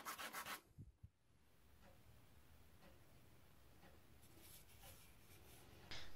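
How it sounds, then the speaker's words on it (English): A quick hand sanding of a glued wood chip mixture for a bamboo desk shelf, faint, steady rubbing strokes that are quiet and close, opening with a few louder scrapes. "Then followed a quick sanding of my glue wood chip mixture."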